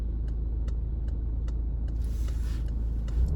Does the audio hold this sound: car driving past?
yes